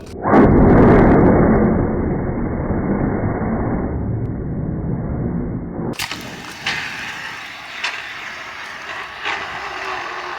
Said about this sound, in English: That was a good use of one extinguisher